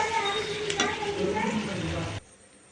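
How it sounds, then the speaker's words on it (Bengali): Mutton biryani is stirred and sautéed in a pot, giving a close sizzle with scraping and clinking as the spoon works the pot. A voice murmurs faintly underneath, and the sound cuts off abruptly near the end. "এবার বিরিয়ানিটা হবে, মানে মাটন বিরিয়ানি হবে, ওই জন্য বিরিয়ানিটাকে কষানো হচ্ছে।"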